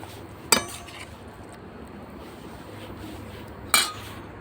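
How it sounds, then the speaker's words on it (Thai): Cucumber soup with shredded pork ladled into a bowl: two sharp clinks of a ladle against the dish, a few seconds apart, over a quiet room. "เสร็จแล้วนะคะก็ตักใส่ถ้วยค่ะ"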